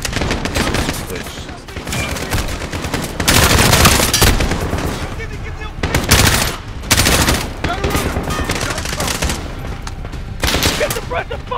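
Sustained machine gun suppressive fire in Modern Warfare Remake, dense loud bursts of automatic shots with booming surges, while voices shout over the battle.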